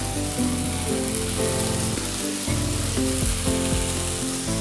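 A green bean stir-fry with coconut and salt crackles steadily in a pan while being stirred, dense close sizzling with faint intermittent scraping, no voices.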